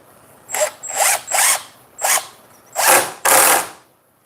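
A screw driven into wood by a powered driver, six loud close bursts of whirring with short pauses between, the last two longer, no speech.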